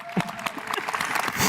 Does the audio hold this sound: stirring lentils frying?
no